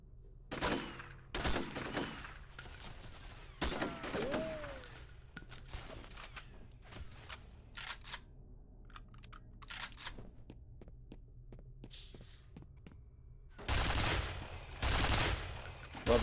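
An automated turret rattles off machine-gun bursts in a first-person horror game: quick clusters of sharp shots and clicks over a low hum, quieter in the middle and louder bursts toward the end.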